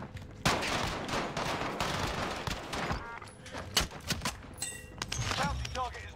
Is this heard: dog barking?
no